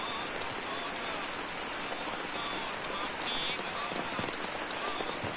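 Steady rain pours onto a home's open courtyard, a dense, even hiss of drops striking the ground and hard surfaces, close and continuous with no voices.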